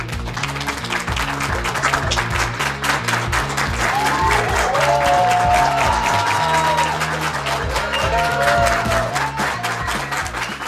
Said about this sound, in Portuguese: Uma salva de palmas, Maria Leopoldina!